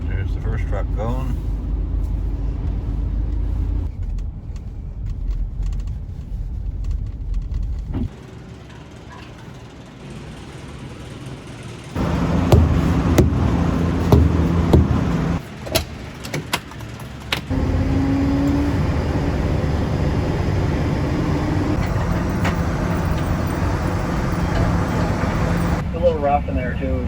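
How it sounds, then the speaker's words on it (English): A truck driving along a freshly plowed snowy road, its engine and tire noise rising and falling as it passes, with people talking over the vehicle sound. "There's the first truck going."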